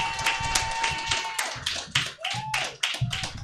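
Audience applause for a comedy host at a Big Top Comedy show, steady dense clapping running through the clip with a few louder bursts and some voices mixed in.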